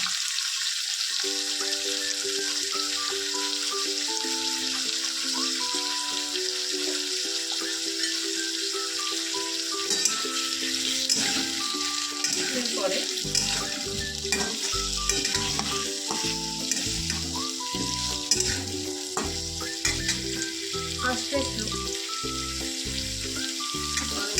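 Garlic and ginger fry in a pan for a Bengali home-style egg curry, giving a steady, close sizzle with stirring scrapes throughout, under a bed of soft instrumental music.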